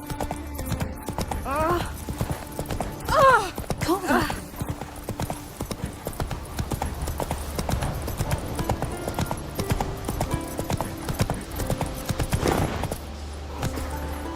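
Roach the horse in The Witcher 3, hooves clip-clopping in a steady walking rhythm close by, with a few snorts and whinny-like sounds mixed in and a voice speaking over part of it.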